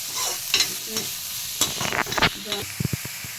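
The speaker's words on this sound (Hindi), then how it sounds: "प्याज डालेंगे। ब्राउन होने तक भूनेंगे।" Onions sizzle in a pan, browning for sarson ka saag, while a spoon scrapes and stirs, with a few quick taps of the utensil near the end.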